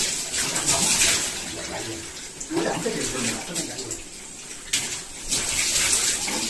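Water splashes and pours in bursts in a tiled bathing space, with voices talking over it now and then.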